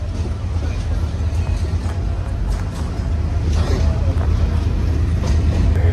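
A crowded passenger train rolls along, carrying a steady low rumble and a rattle that grow slightly louder near the end. Faint background voices sit under the constant noise.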